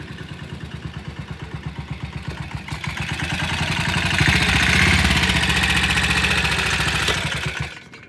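A BSA 441 Victor single-cylinder motorcycle on a test ride, thumping steadily at first, then revving up loud and held before easing off and cutting out at the end.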